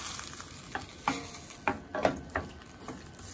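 Soy sauce sautéing in a pan gives a faint steady sizzle, with several sharp scraping and tapping stirs spaced irregularly over it; no one talks.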